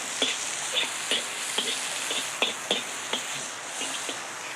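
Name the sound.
stir-frying in a wok, sizzling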